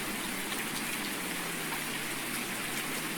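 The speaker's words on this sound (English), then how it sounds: "I can't get over how much rain there is on this map" Steady rain falls in a farming simulation game set on an English farm map, a constant hiss of raindrops pattering on surfaces, even and unbroken with no voices.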